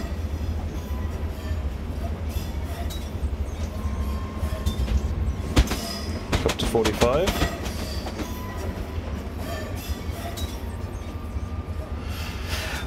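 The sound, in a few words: train running on rails in video game Train Simulator 2018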